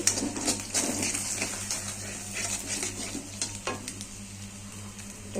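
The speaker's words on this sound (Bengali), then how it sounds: "এবার ডিমটা ভেজে নিচ্ছি।" Two eggs fry in a home kitchen pan, sizzling and crackling up close while a utensil scrapes and stirs in bursts that ease off near the end, with no voices.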